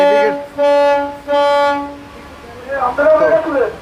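Whistle of the MV Tipu-13 launch ship, two loud sustained tonal blasts with a brief gap between them, followed by a voice speaking nearby.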